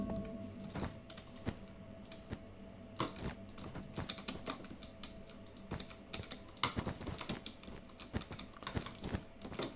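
Rapid clattering keystrokes on a computer keyboard with a faulty key, played during a Minecraft Bedwars (Treasure Wars) match, steady bursts with sharper louder clusters, close and alone without talk.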